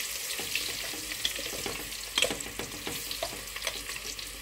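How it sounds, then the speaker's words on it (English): Sliced onions frying in oil for a rich Nigerian Sunday stew, a continuous close crackling sizzle broken by brief stirring clatters, with no one talking. "it's your sliced onions. Oh, that's easy. So you allow it to fry for some time."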